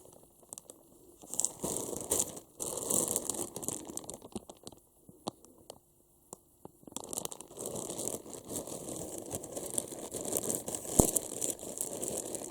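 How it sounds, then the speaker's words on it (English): Plastic bags crinkle and tear as they are pulled off plush toys, loud continuous rustling close up with brief pauses and no talking. "we're gonna remove the plastic bags and see what they look like."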